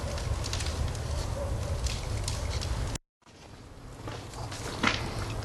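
A large fire catching in a giant fireplace about 10 metres tall and weighing 20 tonnes, with steady broadband crackle and roar, a brief dropout midway, then the rustling burn resuming with a sharp pop near the end.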